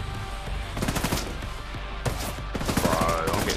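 Heavy, continuous gunfire in The Division 2 as the player takes hits, with dense bursts of shots close by and crackling fire running almost without pause.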